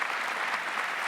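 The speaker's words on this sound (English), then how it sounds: "clap for that." An audience at a Star Trek: Discovery panel applauding, a dense, steady burst of many hands clapping, heard up close for about a second with no break.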